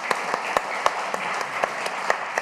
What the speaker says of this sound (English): please give a hand of applause to our speakers